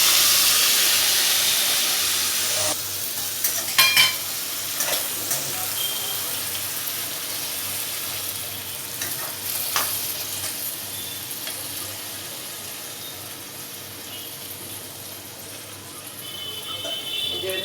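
Steady hiss of water hitting a pan of sautéed vegetable curry, a broad sizzling wash that holds evenly throughout with a few brief clicks near the start, fairly close and with no talking.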